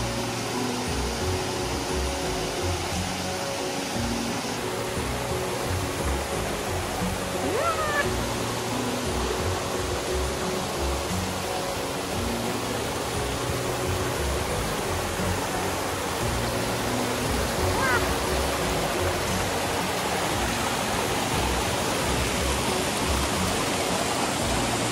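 A waterfall in Kurobe Gorge pours as a steady, broad rushing roar, heard close from the trail at its base, with no talk over it.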